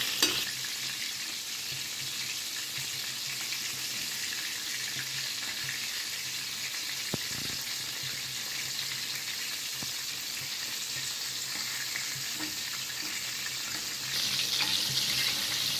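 Chicken strips deep fry in hot oil with a steady, faint bubbling hiss, a few soft knocks and a slight swell in the sizzle toward the end.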